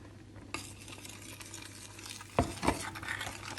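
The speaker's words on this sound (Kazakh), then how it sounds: "Бір келкет араластырамыз." Flour being stirred into boiling milk and melted butter in a pot for choux pastry, with a soft scraping, sloshing texture and two brief, sharper knocks of the spoon against the pot near the end.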